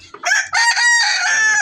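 A rooster crows loudly and close by in a poultry house, a single drawn-out cock-a-doodle-doo call lasting over a second, heard alone without talk.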